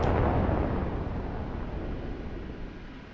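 An AGM-114K Hellfire missile launches from an OH-58D Kiowa Warrior helicopter in the DCS combat flight simulator, a loud broadband blast at the start that trails off into a sustained rumbling roar.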